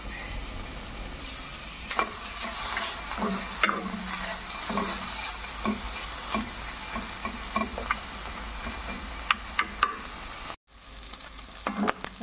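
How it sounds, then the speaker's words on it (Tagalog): Pork belly pan-fries in its own rendered fat with a constant crackling sizzle, punctuated by scraping stirs and tapping of a utensil on the pan, close up, without talking. "I-pan-fry muna natin itong pork belly."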